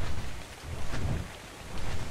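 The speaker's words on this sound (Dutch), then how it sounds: "Het is min 13 en het regent." Rain falls in the survival video game Ark Survival Evolved during a freezing storm, a steady hiss of downpour with low rumbling swells, fairly faint and continuous without voices.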